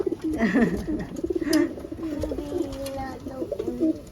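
A pigeon coos repeatedly in soft, rolling bursts, close and fairly loud, with a little background noise throughout.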